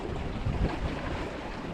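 Wind buffets the microphone while waves wash around a Mirror dinghy sailing in rough conditions at Lake Bala, a dense, steady roar with no voices.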